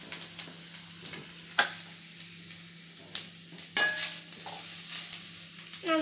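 Grated coconut stirred in a hot pan for kuzhakkatta, a dry scraping and rustling with a few sharp spoon-on-pan clicks, steady and close with no voices.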